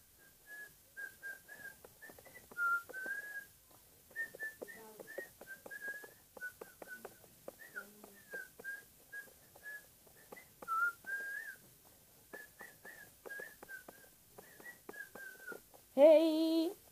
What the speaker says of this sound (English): I'm trying to whistle, I can't whistle.